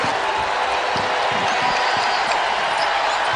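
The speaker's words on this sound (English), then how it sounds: "And another great crowd making a lot of noise" A packed Louisville arena crowd roars during a women's college basketball game against Notre Dame on senior day, a loud continuous wall of cheering with faint ball bounces and sneaker thumps underneath.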